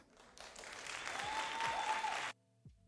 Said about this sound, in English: We've got some audience applause.